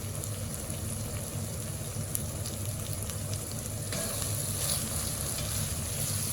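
Bitter gourd fries in a pan on a medium flame, giving a continuous soft sizzle with faint scrapes and clicks as it is stirred.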